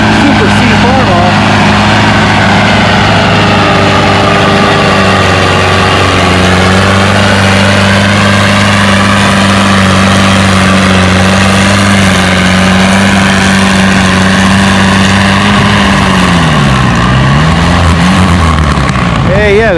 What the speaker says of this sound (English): Hey, it's the first time we've seen Don wheel today on a Super C Farmall.